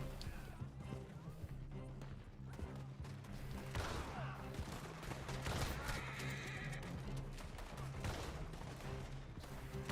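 A horse whinnies and hooves clatter in the Red Dead Online video game, amid a busy mix of gunfire bursts and crashes throughout.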